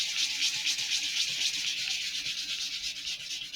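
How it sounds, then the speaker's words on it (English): Sandpaper rubs back and forth over balsa wood fins for an Estes Great Goblin model rocket, giving close, loud, rhythmic scratchy strokes with no talking. "I'm not trying for perfection because you're not going to get it by just sanding"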